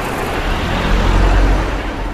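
Loud, steady road traffic roar fills a bustling small Chinese city street in Dandong, with close engine rumble and no speech.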